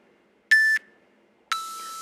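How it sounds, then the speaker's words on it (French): Exercise interval timer sounding two electronic beeps about a second apart, a short clear tone followed by a longer one, each loud and close in otherwise quiet surroundings. "premier bip, deuxième bip, troisième bip, on transitionne"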